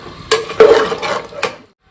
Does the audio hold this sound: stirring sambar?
yes